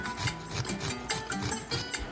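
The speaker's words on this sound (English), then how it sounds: "Here I'm just using my cheese grater to just grate a little bit of onion." Onion rasped on a cheese grater in a home kitchen, a close, rhythmic scraping with quick back-and-forth strokes repeating several times, no voices.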